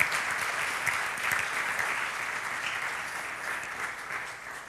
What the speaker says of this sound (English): now is the time where you do your applause.